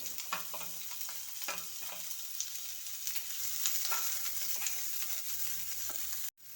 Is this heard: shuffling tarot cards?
no